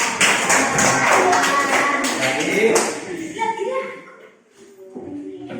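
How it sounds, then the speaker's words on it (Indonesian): A school class claps together in a quick, dense burst of applause for about three seconds, then it fades into quieter shuffling and a teacher's voice. "Ya, tepuk tangan."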